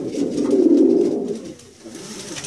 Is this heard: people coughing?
no